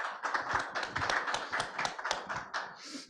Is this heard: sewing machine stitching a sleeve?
no